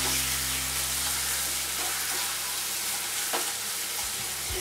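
Schezwan fried rice with soy sauce stir-fries in a hot pan, a loud continuous sizzle with occasional scraping strokes of the spatula, close and steady throughout.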